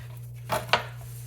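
A knife slices through the meat of a roast Thanksgiving turkey thigh, giving two short, close cutting strokes over a steady low background hum.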